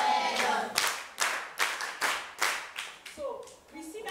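A classroom of students clapping together for a classmate during an English grammar lesson, a run of sharp, fairly close hand claps in a rhythmic burst, with a teacher's voice around them.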